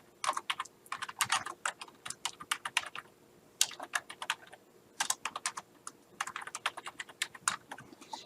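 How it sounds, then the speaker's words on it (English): Fingers type on a computer keyboard in quick, clicky bursts of keystrokes separated by short pauses, close and clear with no speech over them. "If I could type."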